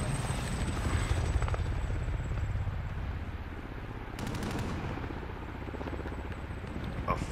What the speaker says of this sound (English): A fucking attack helicopter, of course.